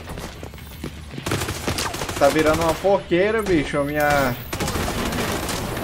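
Rapid gunfire bursts from Tom Clancy's The Division 2, sharp repeated shots heard in a chaotic firefight while someone talks loudly over the action.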